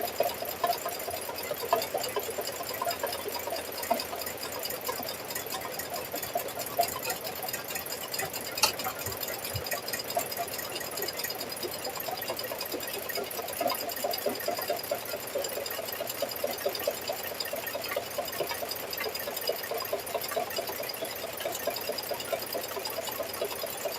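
An embroidery machine stitches a keychain design in the hoop, its needle running in a steady, fast mechanical whir that holds at an even level throughout with no talking.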